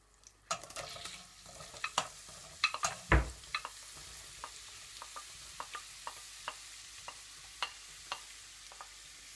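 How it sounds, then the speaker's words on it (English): Pumpkin pieces cooking in melted butter in a pan, a soft continuous sizzle broken by a spoon's scattered clicks and scrapes as it is stirred, with one louder knock near the start. "Let's mix from time to time, and let's cook for about 2-3 minutes."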